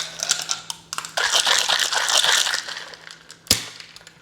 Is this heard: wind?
no